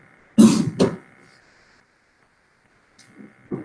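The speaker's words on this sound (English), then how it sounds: "I've been coughing all day." Coughing in a quiet room: two harsh close coughs in quick succession, then a pause before a softer cough at the end.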